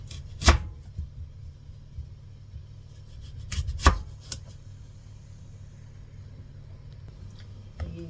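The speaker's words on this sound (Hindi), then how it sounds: "मैं वो काटती हूँ अब सारा फ्रूट।" A knife cutting fruit for fruit chaat, with two or three sharp, close chopping knocks spaced apart over a low steady background hum.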